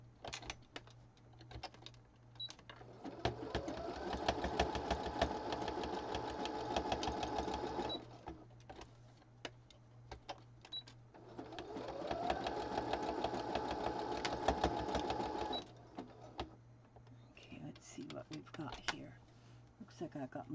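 Sewing machine running in two long stitching bursts while quilting down fabric edges, steady rapid mechanical whirring with pauses between, a voice talking quietly over parts of it.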